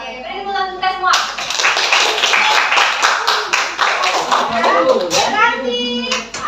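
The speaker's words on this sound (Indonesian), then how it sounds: "beri tepuk tangan kita semua" Children in a classroom clap their hands together, a dense, steady burst of many small hands lasting several seconds, with kids' voices calling out over it and a teacher speaking at the start and end.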